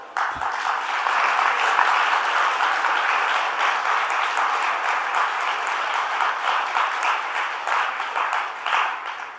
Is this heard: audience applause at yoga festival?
yes